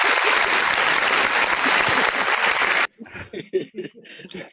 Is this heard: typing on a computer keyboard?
no